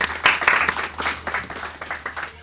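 Audience at an Urdu poetry book launch ceremony applauding a distinguished guest, a dense burst of many hands clapping that holds steady across the whole stretch, with no talk over it.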